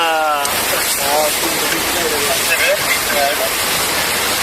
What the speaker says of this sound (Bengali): এই ঝর্ণাটিকে বলা হচ্ছে সম্ভবত পৃথিবীর দ্বিতীয় বৃহত্তর ঝর্ণা